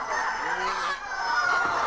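Chickens in a coop on a small egg farm give a few short clucks and honking squawks, close and moderately loud, over a faint background.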